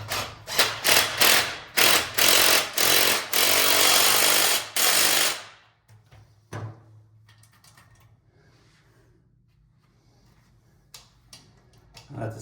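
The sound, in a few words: impact wrench working on a Coolster dirt bike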